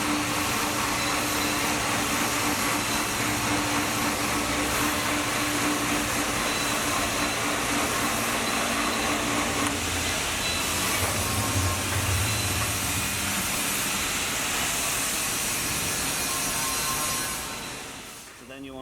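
An overhead crane lifts the cassette off a PKW grain mill inside an industrial plant, a loud continuous mechanical roar and hum that holds steady for most of the lift, then fades near the end.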